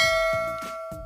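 A bell sound effect: a short, bright ring with steady sustained tones and a few soft clangs, clear and alone without speech.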